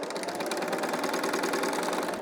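A Bernina L 890 sewing machine stitches knit fabric for a sleeve seam, its needle mechanism running in a fast, steady, even rhythm, close and continuous with no talking.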